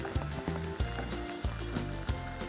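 Onions fry and brown in a pan with a constant close sizzle, punctuated by rhythmic scraping stirs roughly every half second, no voices.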